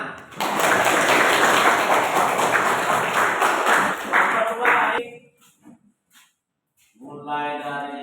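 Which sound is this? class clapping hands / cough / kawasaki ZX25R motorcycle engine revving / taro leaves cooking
class clapping hands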